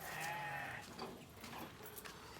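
Farm goats bleating in a livestock pen, a couple of wavering calls close by over a busy background of other animals, with no talk.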